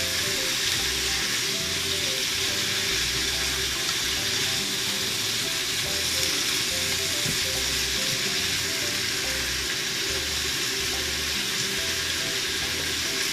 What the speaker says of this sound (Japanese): 軽く炒めてから お水と調味料を入れて煮ていきますよ